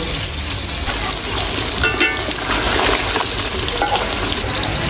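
Continuous crackling sizzle of hilsa fish pieces lightly frying in hot oil, close and steady throughout with brief bursts of spattering.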